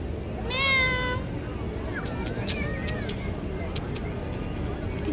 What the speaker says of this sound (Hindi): कितनी प्यारी सी ये बिल्ली